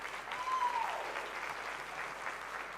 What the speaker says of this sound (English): So let us give them too a round of applause.